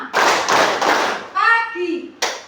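A fourth-grade class claps together in a rhythmic clapping game, with several quick bursts of hand claps, a voice calling between them and a final short clap.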